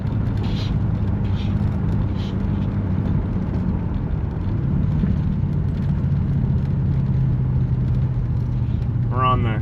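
A 1975 Chrysler Cordoba with no working brakes drives along, its engine and road rumble loud and steady, with someone talking over it much of the time.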